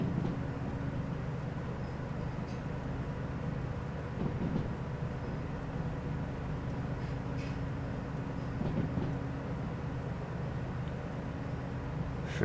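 Train rolling along track in the Derail Valley sim during a rain run, a steady rumbling drone with occasional faint clunks, continuous and mid-distance with no voices.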